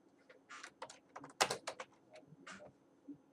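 Keys clatter on a computer keyboard while text is typed into a restaurant website, quiet, close clicks in irregular bursts with a denser flurry in the middle.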